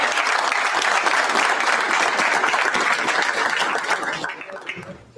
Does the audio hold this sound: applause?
yes